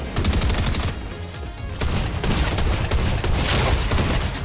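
Heavy, continuous automatic gunfire in a Fortnite match, loud and close, with rapid overlapping shots that dip briefly near the middle before resuming.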